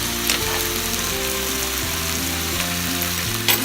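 Steak frying in a pan gives a constant close sizzle, while a lower tonal hum steps between pitches beneath it and a few brief louder crackles pop out.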